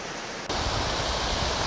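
Rice Creek Falls roars as a steady, broadband rush of falling water, loud and continuous, swelling suddenly a moment in and holding.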